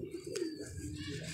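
A Teddy pigeon coos softly and close, one brief low rolling call heard alone.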